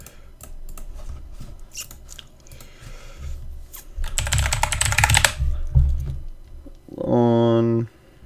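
Someone types on a computer keyboard in irregular bursts of clicky keystrokes, some clustered and loud, with an unrelated tonal beep near the end.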